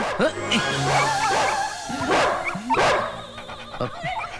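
A dog barking indoors: several sharp barks mixed with whimpering yips, close and fairly loud.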